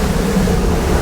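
A Chris Craft 30 Catalina powerboat rolling over swells at 30 knots in exposed water, heard as a steady, dense roar of rushing water and wind with no clear engine note or pauses.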